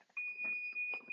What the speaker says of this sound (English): My timer's coming off.